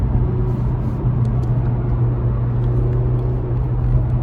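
A 2021 Honda Civic Type-R (FK8) drives with a steady low engine drone and road rumble, loud and close from inside the car, with no speech over it.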